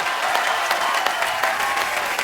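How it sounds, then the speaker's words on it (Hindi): Studio audience at a comedy talk show breaks into loud, sustained applause, a thick wash of many hands clapping continuously at close range with no talk over it. "एक बार यूवी बाजी के लिए जोरदार ताली हो जाए।"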